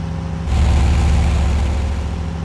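A Volat military truck engine in American Truck Simulator gives a heavy, low rumble that jumps louder at about half a second and then holds a steady, loud drone.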